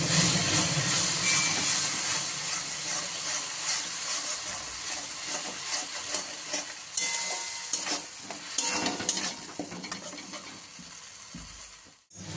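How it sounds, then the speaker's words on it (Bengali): Ground spice paste fries in a pan for a snail curry while a spoon stirs it, producing a continuous sizzle broken by repeated scraping and clinking strokes, close and fairly loud, ending abruptly. "এবার আমি মশলা, যা বাটা মশলা রেখেছিলাম সেগুলো আমি দিয়ে দিলাম। দিয়ে আমি নাড়তে লাগলাম।"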